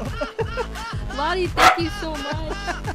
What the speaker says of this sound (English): Avery's excited. That's our dog.